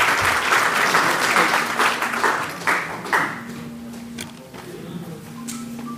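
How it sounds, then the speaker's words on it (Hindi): Loud, sustained applause from an audience at a political speech event, honouring a guest speaker, dense clapping that gradually thins and fades toward the end with a few scattered claps remaining. "सर के सम्मान में एक जोरदार ताली।"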